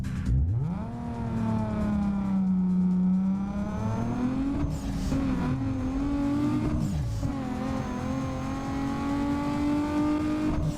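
A Nissan VQ engine in Need for Speed Underground 2 revs and accelerates through several rising gear pulls with brief drops between shifts, loud and clear with no talking.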